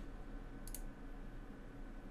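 One quiet mouse click sounds while a website admin panel is being worked in, set against a low steady room hum.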